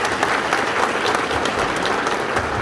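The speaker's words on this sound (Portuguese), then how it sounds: "Uma salva de palmas, por favor." An audience at a rural producers' union meeting in São João da Ponte, Minas Gerais, applauds steadily, a dense continuous clapping from many hands at moderate distance.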